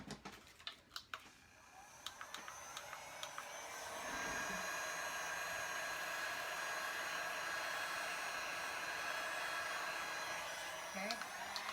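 A hair dryer style heat blower runs steadily over a resin Dutch pour with white around it and a little in the center, a loud continuous whoosh starting after a few handling clicks and holding to the end.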